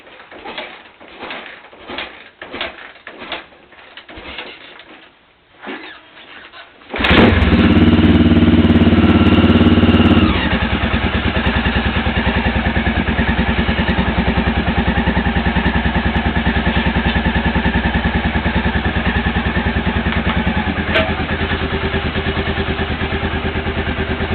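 An XR600 motorcycle engine with no air filter fitted bursts to life after some quieter rattling, then runs with a loud, steady, raspy rumble close by, with some intake suction sound.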